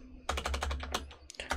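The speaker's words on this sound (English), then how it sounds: "Keep mistyping on my keyboard." Someone types on a computer keyboard while writing C++ code, a quick run of close, crisp key clicks followed by a few scattered taps after a brief pause.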